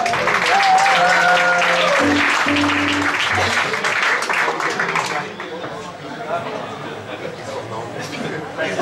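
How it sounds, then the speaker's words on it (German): A club crowd at a blues jam session applauds loudly for the first few seconds, then the clapping thins into scattered claps and chatter, with voices talking nearby. "Applaus für den Torben"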